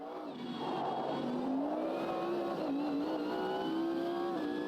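Race car engine in the Automobilista 2 racing game: a loud, steady engine drone whose pitch climbs and dips as the car accelerates and brakes through corners, running continuously with no talk.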